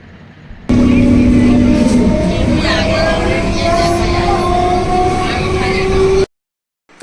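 A train rumbling loudly and steadily past Gobardanga station, with rising and falling tonal hums and a broad roar sustained for several seconds before cutting off abruptly.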